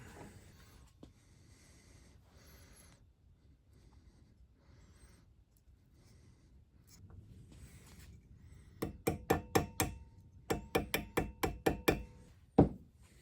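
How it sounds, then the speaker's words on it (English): A small bearing being tapped into the back of a live center with a machined driving tool, two quick bursts of sharp metallic taps followed by one heavier knock, close and distinct over a quiet background. "I machined up this tool here so I can tap in this bearing on the back."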